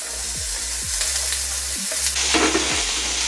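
Malabar spinach (poi) stems sizzling in a pan with potatoes, a steady close fry with repeated scraping stir strokes and a brighter burst of sizzle midway.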